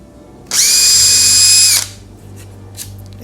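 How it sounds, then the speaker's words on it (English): A power drill bores holes into the thickest part of a wooden picture frame for eyelets, one loud steady whine lasting just over a second, then stopping abruptly and leaving quiet room noise. "that's where I drill my holes."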